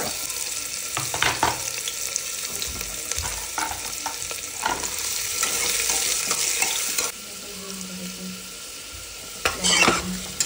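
Chopped onions sizzle steadily in hot oil as they turn red, with repeated scraping strokes of a spoon stirring them around the pan; close and fairly loud, with no talking.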